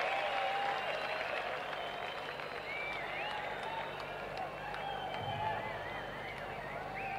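A large audience claps and cheers at a rock concert, a broad wash of applause with scattered whistles and shouts that stays steady and fairly distant for several seconds.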